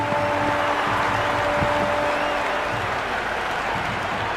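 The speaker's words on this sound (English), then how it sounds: "The crowd loved that one." Crowd applause in the Cricket 26 video game after a boundary four in a T20 match, a steady wash of clapping and cheering that holds at even loudness throughout.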